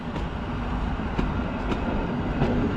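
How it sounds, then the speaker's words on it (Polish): An Express Intercity passenger train with a bar car rolls past at Wrocław Główny station, a steady, loud rail rumble with faint periodic wheel clicks throughout and no voices. "Wagon barowy był z pociągiem Express Intercity Wiadrina"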